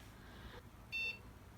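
A single short, high electronic beep from a Dell or eMachines PC booting sounds once, faint and clean against a quiet background hum.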